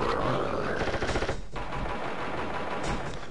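Bursts of rapid gunfire come from a boss shooting bullets in the Sly Cooper video game, dense and continuous rattling at moderate loudness mixed with game music.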